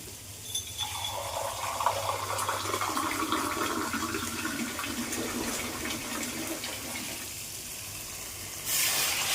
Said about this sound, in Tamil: இப்போ நான் தண்ணி ஊற்ற போகிறேன், பாருங்கள்.